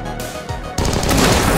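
Gunfire crackles in an XCOM 2 battle, modded with Mass Effect content: a short burst, then a louder, denser volley of rapid shots that fills the second half, loud and without any voices.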